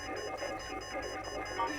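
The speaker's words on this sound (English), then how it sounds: "I can't turn the alarm off because as soon as anybody walks by," In the detective game Shadows of Doubt, an alarm rings steadily in a fast repeating electronic pulse, faint but continuous with no pauses.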